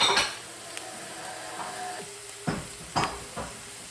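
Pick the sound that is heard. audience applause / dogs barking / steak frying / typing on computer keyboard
steak frying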